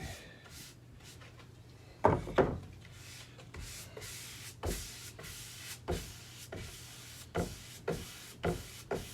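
A cloth rubs wood conditioner over a wooden noodle board with repeated strokes. The strokes start soft, then sharper rubbing bursts return steadily and close by, with no talking.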